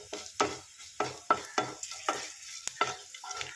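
Fennel seeds fry in a hot pan while a spatula stirs them, giving rhythmic scraping strokes about twice a second over a soft sizzle, close and clear with no voices.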